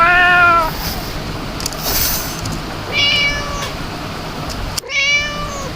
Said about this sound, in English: When I press enter, it will meow with the eye closed and the mouth open.